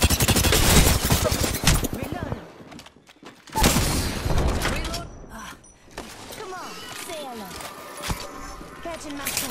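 Rapid bursts of video game gunfire crackle almost continuously from a first-person shooter match, loud and close, with brief lulls between volleys and a player talking over the shooting.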